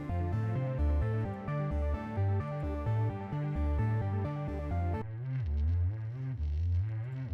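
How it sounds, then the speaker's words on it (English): A deep, pure sine-wave synth bass with a gritty, crackling edge pulses under a layered synth pad, steady and loud with no voices. "it's the crackle bass, and it's a sine wave with a bit of a slurry sound to it"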